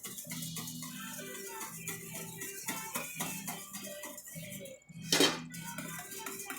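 A metal whisk beating a thickening cream sauce in a bowl, quick rhythmic clinking and scraping strokes close by, with a sharper clatter near the end and a soft voice at times beneath it.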